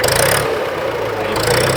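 A modified tractor engine idles loudly and steadily close by, a continuous throbbing rumble with no pauses and no talk.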